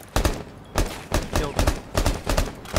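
Rapid gunfire from Rainbow Six Siege cracks out in a steady rhythm of about eight sharp, loud shots and short bursts over less than three seconds.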